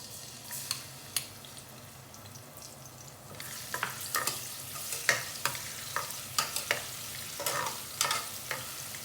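Garlic sizzling in hot oil with bay leaves in a pan, stirred with a utensil; a steady close frying hiss broken by repeated sharp scraping and clattering stir strokes.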